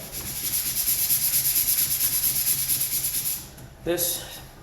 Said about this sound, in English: But you can just put it flat on your surface and sand away.